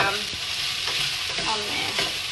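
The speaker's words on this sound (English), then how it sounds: "you can see that the chicken is starting to, on pieces like this one and this one, you can see some of them are starting to brown" Chicken pieces sizzle and fry steadily in a pan, a dense close hiss with a few soft scraping stirs as they brown.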